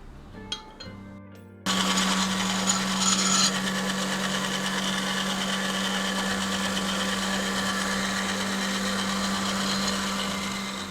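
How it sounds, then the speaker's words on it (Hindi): An electric grinder jug whirs loudly as it grinds soaked rice with water, starting abruptly after a few quiet clicks and then holding a steady high motor drone to the end. "तो आएँ सबसे पहले हम इस चावल को पीसते हैं।"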